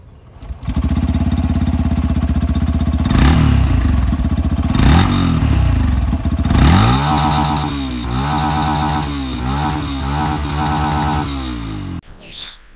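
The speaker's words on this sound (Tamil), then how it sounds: "யமஹாவோட FZS ஹைப்ரிட் இதோட எக்ஸாஸ்ட் நோட் எப்படி இருக்குன்னு சொல்லிட்டு கேட்போம் வாங்க" A Yamaha FZS Hybrid 2025 motorcycle's exhaust rumbles close and loud, with a few sharp throttle blips and then a run of rhythmic rising-and-falling revs before cutting off abruptly.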